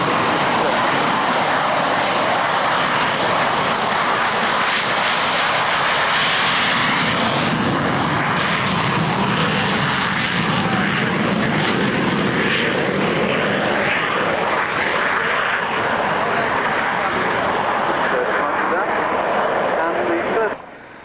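Hawker Hunter jet in black squadron markings flying at the North Weald airshow, a loud continuous roaring engine sound that swells and fades over about twenty seconds, with a commentator talking over it.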